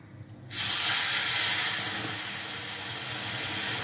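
Hot water hits a hot pan of semolina halwa, bursting into a loud, steady hiss of sizzling and steam that begins abruptly and holds for several seconds, close up.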